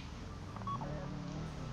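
A mobile phone in the video game GTA V dials, giving a short run of quiet tonal beeps in quick succession over a steady low game rumble.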